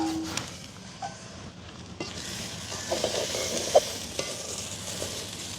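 Curry ingredients sauté in oil in a village wedding-style kitchen, giving a soft steady sizzle with occasional scrapes and clinks of stirring, fairly quiet and without talk.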